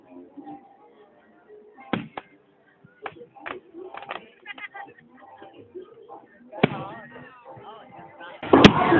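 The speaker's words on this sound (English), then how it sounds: "documenting the fireworks display here in Memphis, Tennessee." A fireworks display in Memphis, Tennessee sends out scattered sharp bangs and cracks, some loud and close, under ongoing voices of people talking nearby.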